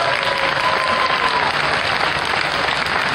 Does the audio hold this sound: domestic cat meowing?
no